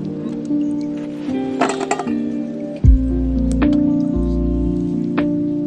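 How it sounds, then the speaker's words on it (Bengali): Olives being washed by hand in a bowl of water for homemade pickle, with close sloshing, splashing and light clinks of fruit against the container, a brief heavier splash midway and steady swirling water afterward. "তো আমি জলপাইগুলোকে আগে ভালো করে জলের মধ্যে ধুয়ে নেব।"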